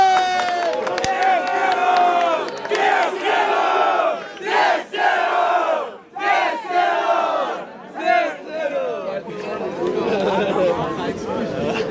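A rap battle crowd roars, chants and cheers in loud surging waves, with brief dips between bursts of shouting and dense crowd chatter throughout.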